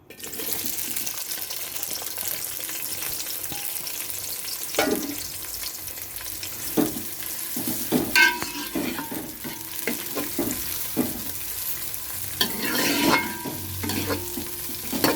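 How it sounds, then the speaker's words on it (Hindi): Onions browning in hot oil for Hyderabadi chicken masala, a continuous close sizzle with repeated scraping stirs and clatters of a spoon against the pan, no talking. "अब हम प्याज डाल के ब्राउन करेंगे।"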